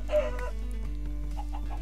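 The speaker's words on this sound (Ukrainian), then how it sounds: "Так, курка йде сюди." Chicken clucking in the Minecraft video game, a few short game-sound clucks over a steady low background hum, fairly faint.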